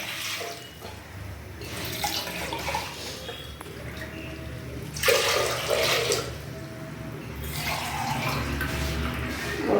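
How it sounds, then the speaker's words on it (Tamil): Water pours continuously from a tap into a cooking pot for boiling horse gram lentils in a home kitchen, a steady splashing stream with louder bursts, no talk. "முதல்ல அடுப்பு பற்ற வச்சு தண்ணி ஊற்றிக்கலாம்"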